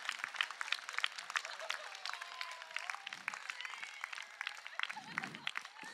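An audience gives a round of applause at a live event, a faint, distant patter of many hands clapping that keeps going, with a few low thumps and murmurs underneath.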